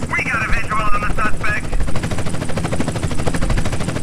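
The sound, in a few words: police helicopter in the video game GTA San Andreas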